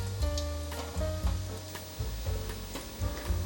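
Food for a vegan home-style dish sizzles as it pan-fries in oil, a soft, steady crackle layered over tonal background sounds that rise and fall in short pulses.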